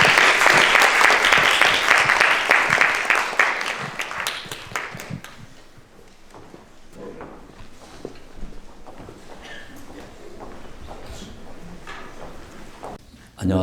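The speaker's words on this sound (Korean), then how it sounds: "저희 큰 박수로 김서구 차관님 모시겠습니다" Audience applause at a lecture welcoming a former vice minister, a loud sustained round of clapping that thins into scattered claps and fades over several seconds, with a faint voice briefly at the end.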